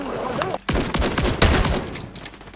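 Gunfire in Call of Duty on the Meat map, a rapid burst of loud, close shots crackling after a brief gap, with faint voice traces underneath.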